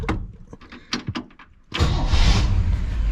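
The engine of a 1959 Chevrolet Bel Air is started with the key: a few clicks and clunks, then the engine catches and roars loudly into a steady, rumbling idle.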